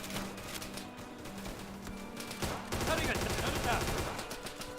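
Rapid bursts of gunfire in a WWII sandbox video game, a quieter stretch of shots followed by denser automatic fire in the last couple of seconds.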